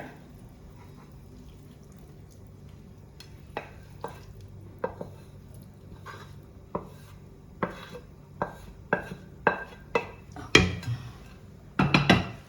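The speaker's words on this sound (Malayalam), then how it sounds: "പനീരും പഞ്ചസാര പാവും കൂടെ അങ്ങോട്ട് നന്നായിട്ട് ചേരണം. അത് വരക്കി ഇളക്കിക്കൊണ്ടേയിരിക്കണം." Paneer and sugar syrup stirred in a pan for paneer boondi: scattered utensil scrapes and clicks, quiet at first, then growing denser and louder toward the end, with no talking.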